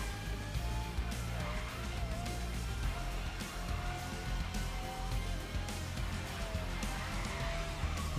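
Supercar racing in the video game Grid Legends, a steady engine drone with tire squeal and skidding noises under hard braking, fairly quiet and continuous, with no talking.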